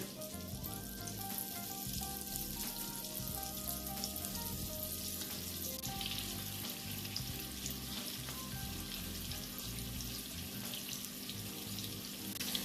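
Canned salmon cakes frying in a pan on medium heat, a continuous dense sizzle and crackle that stays even and close for the whole stretch, with no talking.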